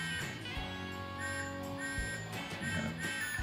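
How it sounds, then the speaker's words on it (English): A Lionel Thomas & Friends toy train whistle with Bluetooth sounds in repeated tonal toots with its pitch shifting up and down, clear and close with no voices. "you can adjust the pitch of Thomas's whistle"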